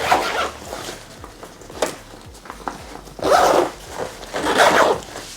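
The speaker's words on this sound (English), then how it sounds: "Let's close these zips up." Zippers being pulled closed on a Lunar's Bingo 48 L laptop backpack, several close, scratchy rasping pulls of varying length with small handling clicks between them.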